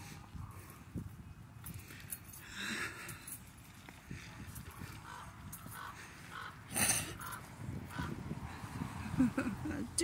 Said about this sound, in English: Duke it out with the damn crows.